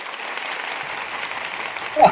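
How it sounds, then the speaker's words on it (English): A small studio audience applauds the arrival of a guest, the co-founder of a mental wellness app. The clapping is steady and moderate and softer in the background, and a voice breaks in at the very end. "You like that applause?"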